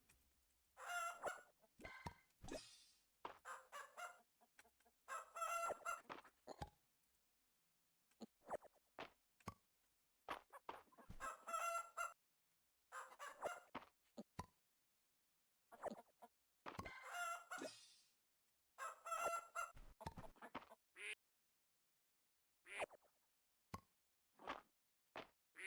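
Chickens in the farming video game Fields of Mistria, bursts of clucking and crowing that come and go in short clusters separated by silence, clear and close with no talk.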